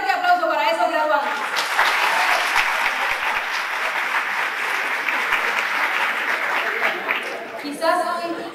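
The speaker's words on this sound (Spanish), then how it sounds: "Un fuerte aplauso para esos graduados." Sustained applause from a large audience honoring graduates at a 2006 graduation ceremony, a dense steady patter of many hands lasting several seconds, with brief speech before and after.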